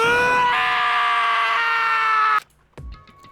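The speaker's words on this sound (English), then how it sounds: "As Taka's sad screams invaded our skulls" In the video game Danganronpa, a character lets out a long, loud, sustained scream that cuts off abruptly, followed by a brief thud and a faint tone.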